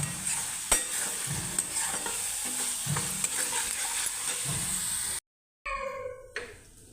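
Close sizzling of masala frying in a kadai with repeated rhythmic scraping strokes of a spoon stirring, a short cut of silence near the end, then a brief different sound.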